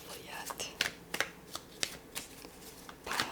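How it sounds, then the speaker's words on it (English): Tarot cards shuffled by hand during an ASMR reading: crisp, close riffling snaps and papery slides in an uneven rhythm, with soft talk underneath. "A couple of cards just popped out, but I'm going to continue to shuffle"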